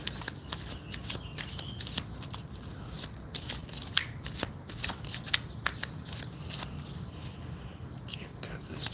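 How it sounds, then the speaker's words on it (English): A worn-out deck of tarot cards is riffle-shuffled again and again, giving soft, fluttering card-riffle bursts at close range over a quiet background with faint insect-like chirps. "Can't cut this deck at all. It's going to shuffle like this."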